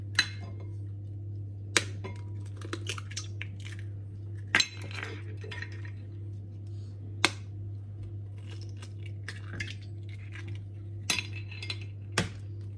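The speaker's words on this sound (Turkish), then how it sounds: "5 yumurta kırıyorum." Eggs are cracked one after another against the rim of a bowl while making a chocolate cake, giving several sharp, close clinks and taps spaced a few seconds apart over a steady low kitchen hum.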